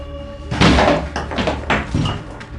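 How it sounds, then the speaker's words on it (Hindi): A shelf standing behind a door topples over with a loud, clattering thud, followed by a few rattling knocks as it settles. "दरवाजे के पीछे रखा एक शेल्फ भी अपने आप गिर जाता है"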